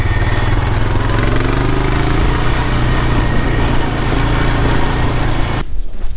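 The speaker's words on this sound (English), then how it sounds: "What's the chance this old four-wheeler actually starts?" An old four-wheeler ATV engine runs at a steady idle, loud and close, with a throbbing low drone that holds evenly before cutting off abruptly near the end.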